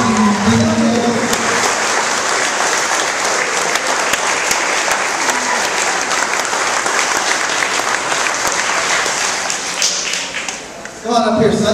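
Audience applause for Sonny Davis, a participant in the Rick Hansen 25th anniversary relay, fills the room loud and steady for about ten seconds, with crowd noise and a few voices mixed in before it tapers off.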